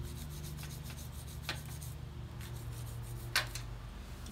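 A rag rubbed along an old bicycle chain to clear off old grease, quiet close scuffing with a couple of sharper scrapes over a low background hum.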